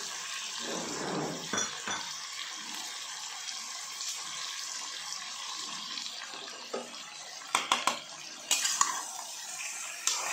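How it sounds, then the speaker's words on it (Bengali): Chicken curry with vegetables sizzles softly in a pan while spice-washing water is sprinkled in and a utensil scrapes and stirs. Toward the end come a few sharper clinks of metal on the pan. "এই মশলা ধোয়া জলটা আমি মাঝে মাঝেই এইভাবে ছিটিয়ে ছিটিয়ে কিন্তু কষতে থাকবো"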